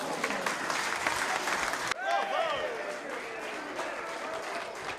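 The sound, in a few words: audience applause after magic show in tavern, from film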